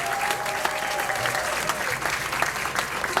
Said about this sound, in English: Let's give a hand clap again for Ida B. Wells Barnett.